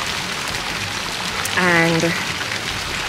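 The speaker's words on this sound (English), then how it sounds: "It's pouring. It's not raining as hard as it was before" Steady, dense rain on surfaces in St Lucia fills the scene as a constant close hiss, with a brief voice speaking over it partway through.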